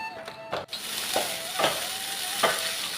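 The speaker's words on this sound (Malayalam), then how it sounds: "നന്നായിട്ട് വഴറ്റി കൊടുക്കാം കേട്ടോ" Deboned fish filling for meen ada sautés in a hot pan, a steady close sizzle punctuated by a few distinct scraping strokes of a spoon stirring, with no one speaking.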